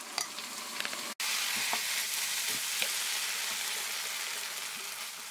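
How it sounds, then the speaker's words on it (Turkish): Steady, dense sizzling of onions and minced meat frying in a hot pan, with occasional scraping stirs, continuous and close throughout. "soğanla birlikte kıymamı güzelce kavuruyorum"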